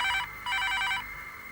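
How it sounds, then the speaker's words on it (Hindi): A telephone bell rings in two quick bursts, bright and trilling, in an indoor scene of a Hindi TV drama, then the ring fades into quiet room tone. "जाओ ना, जाकर फोन देखो।"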